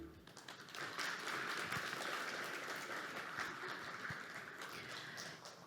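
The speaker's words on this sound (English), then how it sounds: "let's give him another warm round of applause" Sustained, even applause from a conference audience at a climate and energy event in Seoul, steady and moderately distant, with no talk over it.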